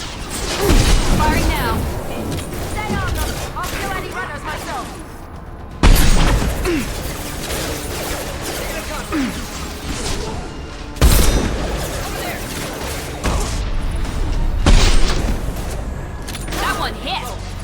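Weapon fire and explosions from Mass Effect 2 come in dense bursts of gunshots, with heavy booms and crashes hitting at several points. Voices talk over the combat throughout.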